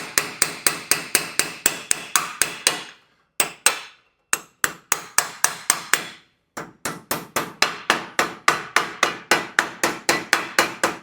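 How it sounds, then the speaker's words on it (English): Sharp metallic hammer strikes on a 1941 Mercury floor pan, worked against a solid tube, ring out in steady rapid runs, broken by a few brief pauses before the pounding resumes, close and loud. "We wanted a solid piece to hammer up against."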